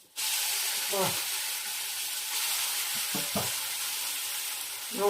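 Steady hissing sizzle of spices tempering in hot oil, loud and close, with a few brief clinks of a spoon stirring in the pan.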